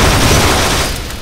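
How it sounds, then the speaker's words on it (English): A loud, dense burst of video game explosion noise from Kane & Lynch 2: Dog Days that rumbles and fades slightly over about a second, with no voices. "Oh, that's quite the explosion."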